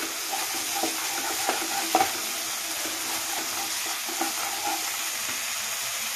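A spoon stirs rohu fish curry with ketchup and fresh cream in a frying pan, over a constant soft sizzle broken by a few light scraping clinks.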